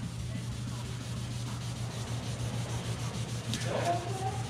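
Wet sandpaper rubs back and forth over a deep scratch in a car's paint, a steady close scraping rasp that continues unbroken for several seconds.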